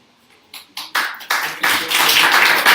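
Audience applause at a civic forum held by a journalists' association in Concepción, clapping swelling from scattered claps into a steady, full round that keeps building to the end.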